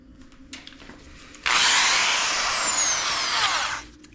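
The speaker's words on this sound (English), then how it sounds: "I like the other drill because this one is actually too powerful, but it's the one we're going to use." A powerful power drill taps threads in an aluminium window frame, whirring loud and close in one sustained run of about two and a half seconds after a short quiet lead-in.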